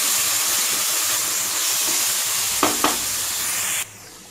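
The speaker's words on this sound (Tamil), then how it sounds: "இந்த பச்சை வாசனை போகிற வரைக்கும் நல்லா வந்து நம்ம வதக்கிடணும்." Ginger and garlic sautéing in ghee for ghee rice, a loud continuous sizzle and hiss with two quick spoon clicks against the pan before the frying noise suddenly drops away.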